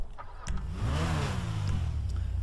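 A Ferrari F430 engine in GTA 5 cranks and fires up, then holds a loud, steady, rumbling idle with rising revs, close and unbroken by talk.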